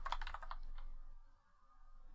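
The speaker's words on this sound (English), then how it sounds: "So let's see if I can type somewhere." Quick keystrokes on a computer keyboard sound close and quiet, a short burst of clicks that fades into near silence.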